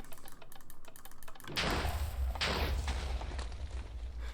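In Minecraft, a lever is flicked rapidly in a run of small clicks, then a loud explosion bursts in with a heavy rumble and a second blast close behind it.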